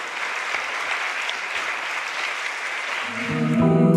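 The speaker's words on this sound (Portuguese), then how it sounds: "Vamos aplaudir o Senhor, que Ele merece" A church congregation at a worship service applauds in a steady, full wash of clapping, joined near the end by rising keyboard chords underneath.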